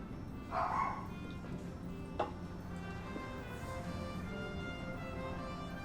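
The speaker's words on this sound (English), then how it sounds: "I swear of all times for my dog to be barking" A dog barks twice in the room, muffled and short, over steady video game music.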